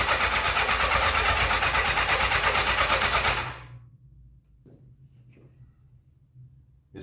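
A 1984 Honda CB700SC Nighthawk motorcycle engine with freshly cleaned carburetors cranks loudly and roughly for about three seconds, then stops, leaving a faint low hum and a few small knocks.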